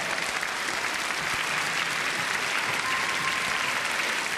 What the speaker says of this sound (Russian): Ваши аплодисменты, Наталья Подольская и Екатерина Рубцова!